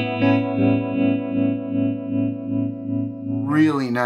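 A Gibson ES-335 electric guitar on its neck pickup runs through a clean Helix vibe effect, giving a warm, Rhodes-like tone as sustained chords pulse with a steady wobble, then a fresh strum near the end, with no talking.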